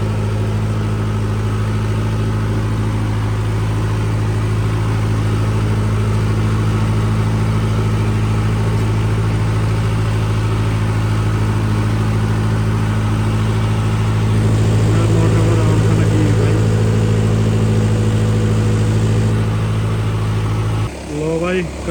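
A generator engine powering a water pump on a farm hums in a low, steady drone throughout, close and loud, with a voice speaking over it and a brief disturbance at the end.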